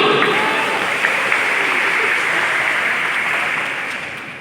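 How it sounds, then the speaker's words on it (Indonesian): Church Sunday school teachers at a training session in Biak applauding together, a full steady burst of clapping from a room of people that holds loud and then gradually fades toward the end. "Tepuk tangan dulu."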